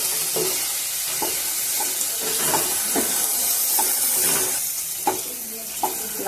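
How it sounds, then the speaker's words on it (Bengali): Salted carrots sautéed in a pan hiss and sizzle steadily while a spatula scrapes and taps in a loose rhythm, the strokes close and distinct over the frying noise. "নুনটা দেওয়ার পরে গাজরটা একটু ভালো করে কষে নেব।"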